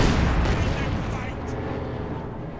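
Dense, continuous battle din from Company of Heroes 2, a World War II strategy game: gunfire and artillery blasts rumble together with heavy fire from a Soviet SU assault gun, loud and sustained without a break.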